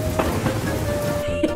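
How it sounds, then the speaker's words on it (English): Cartoon rain pours in a steady, dense hiss with a faint low rumble of thunder underneath, continuous and fairly loud throughout. "It's raining!"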